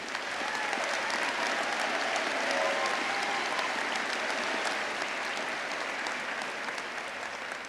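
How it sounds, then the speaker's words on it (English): Sustained applause from a large crowd at a university graduation ceremony, an even wash of clapping that holds steady throughout. "let's give them a round of applause again"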